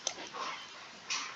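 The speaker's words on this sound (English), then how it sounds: "Sorry about my dogs." Dogs whimper and whine indoors in two short bursts, one at the start and one near the end, with a soft, thin tone over a quiet room.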